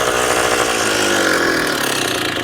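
A Rokon motorbike with a new engine running slightly rich, its carburetors needing adjustment, drones steadily and loudly up close for the whole stretch, with no voices.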